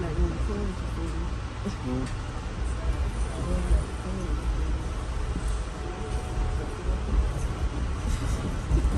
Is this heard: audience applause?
no